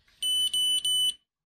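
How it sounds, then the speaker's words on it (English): Three long, high-pitched electronic beeps from an iCare HOME2 eye pressure measuring device, in a steady row, each lasting about a quarter second with short gaps, clear and close, then silence. "The probe base light flashes red and you hear 3 long beeps after making a measurement."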